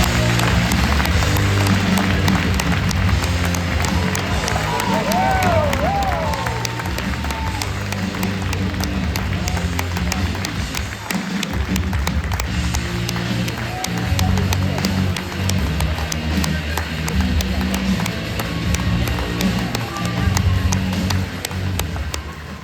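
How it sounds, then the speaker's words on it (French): Festival audience applauding the youth jury on stage at the Gérardmer fantastic film festival, a dense, sustained wash of clapping filling the hall, with music and a few voices underneath. "Merci de les applaudir."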